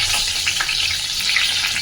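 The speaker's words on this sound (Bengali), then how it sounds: "এবারে আমি কড়াতে আর একটু তেল দিয়ে দিচ্ছি। এর মধ্যে আমি একটু মেথি দিয়েছি আর আমি তেজপাতা দিয়ে দিলাম।" Fenugreek seeds and bay leaf fry in hot oil in a wok, giving a steady, loud, close sizzle and crackle with no talk.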